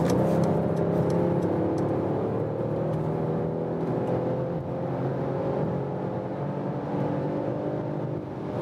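A facelifted Mercedes-Benz E-Class All-Terrain crossover wagon accelerates hard from 100 km/h in Sport Plus mode, heard from inside as a steady rising engine whir with road and wind roar, no talking.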